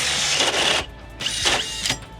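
Stacked hole saw cups on a long arbor bore through material to enlarge an existing hole, giving a loud, steady grinding drill run that drops out briefly, then returns in two surges before easing off.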